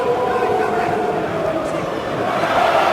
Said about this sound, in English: as the crowd find their voice